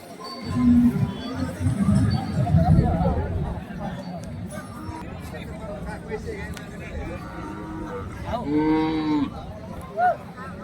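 Cattle, mostly young bulls, moo repeatedly amid a busy crowd at a livestock market, with voices babbling throughout and a clear, drawn-out low call rising near the end.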